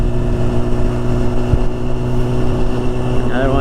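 Motorcycle engine held at a steady cruising throttle around 40 mph, a continuous even drone with strong low harmonics and wind noise, a faint rising whine near the end.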